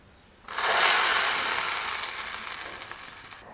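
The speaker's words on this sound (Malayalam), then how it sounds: "ഇനി ഇതിലേക്ക് കടുകും കറിവേപ്പിലയും കൂടി വറുത്തിടാം" Mustard seeds and curry leaves drop into hot oil and burst into a loud, steady sizzle that starts abruptly and holds nearly constant, fading slightly before cutting off, with no talk.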